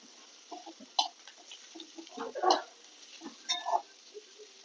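Boiled potatoes being stirred gently in hot ghee in a pan for a fasting khichdi, with soft scraping strokes and a few light clinks of a spoon against the pan over a faint sizzle.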